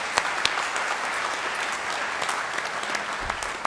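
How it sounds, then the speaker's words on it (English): Steady applause from an audience at a career center awards night, honoring an outstanding student: a continuous, fairly close wash of clapping with a few sharper claps standing out. "So let's give her a round of applause for Emily."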